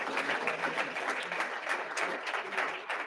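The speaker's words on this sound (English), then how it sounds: "let's give them a round of applause anyway" Audience applause at an awards ceremony, a steady, dense wash of many hands clapping, moderately distant and fairly quiet, with no voices standing out.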